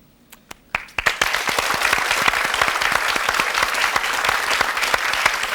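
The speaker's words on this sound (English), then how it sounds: "let's have a round of applause to close out our show" A studio audience at the close of a quiz show breaks into loud, sustained applause after a few scattered early claps, dense and steady for several seconds.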